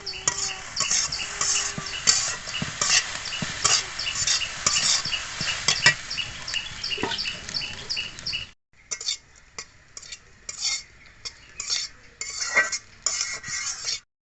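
Egg and puffed rice stirred in a frying pan: a spatula keeps scraping and clinking against the metal over a steady sizzle, with a short break before the scraping picks up again. No one speaks.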